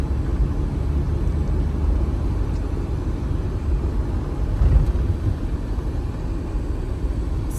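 A Mahindra Scorpio Classic SUV cruises in sixth gear, giving a steady, loud low rumble of engine and road noise that holds even throughout with no voices.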